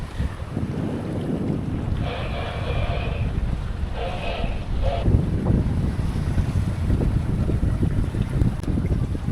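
A sailboat running downwind in light wind on dead-flat water off Kefalos, Kos, carries a steady hiss of wind and water against the hull, with gusting wind rumble on the microphone and no voices.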